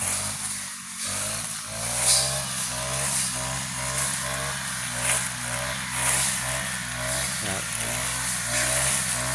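A repaired brush cutter with a replaced cutting head drones continuously while trimming grass in a rubber plantation, its engine close and loud with small rises and dips in pitch as the blade meets the growth.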